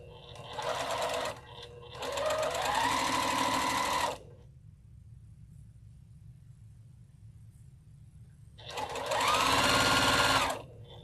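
A sewing machine piecing quilt blocks runs in close bursts: a short stitch, a longer steady run, a pause of near silence, then another run, with a faint low hum underneath.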